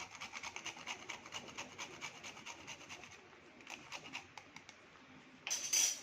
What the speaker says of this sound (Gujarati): આપણે થોડુંક જાયફળ ઘસી લેશું